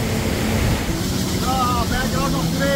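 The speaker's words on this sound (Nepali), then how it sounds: "ब्याकग्राउन्डमा पुरै माथिबाट खसेको झरना छ है" A waterfall plunging from high above in Langtang, Nepal, roars as a steady, loud broadband wash of falling water, with wind buffeting the microphone and a voice speaking over it.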